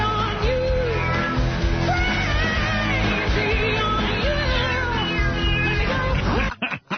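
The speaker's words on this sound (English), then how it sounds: "Get that cat sound effect." A cat meows and wails in a loud, drawn-out way over a dense musical backing, cutting off abruptly near the end.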